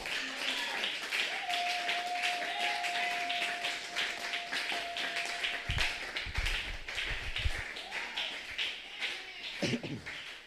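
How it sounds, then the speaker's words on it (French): A church congregation applauds for the Lord in steady, dense clapping that carries on throughout, with a sustained sung or shouted voice over it and scattered exclamations. "On acclame pour le Seigneur."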